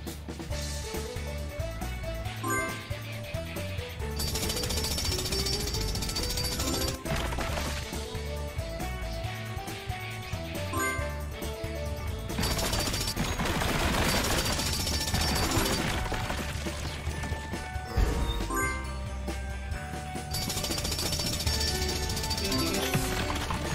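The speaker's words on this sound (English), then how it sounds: "Helped Rubble use his drill to clear the way." A loud jackhammer-like drill in a PAW Patrol cartoon pounds rapidly and continuously, with bursts of crashing rock and clattering over a busy backdrop.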